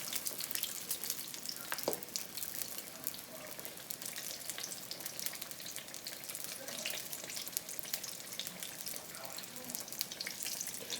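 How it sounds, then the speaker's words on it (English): Unbreaded, seasoned chicken wings fry in a cast iron skillet, a dense, even crackling sizzle that hisses continuously and fairly quietly throughout with no voices. "I particularly like to fry in my iron skillet, cast iron."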